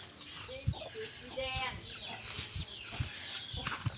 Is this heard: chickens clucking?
yes